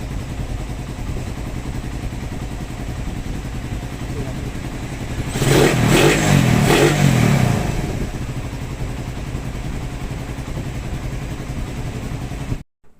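A Raider 150 motorcycle, recently fixed after hard starting, idles steadily, then revs up in a brief loud burst around the middle before settling back to idle.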